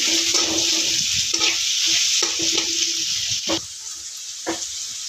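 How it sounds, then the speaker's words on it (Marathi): Chopped onion fries in a hot pan for a flower paratha recipe, giving a steady bright sizzle with a few short stirring scrapes and taps of a utensil, close and fairly loud. "कांदा तो भाजून घ्यायचा आहे"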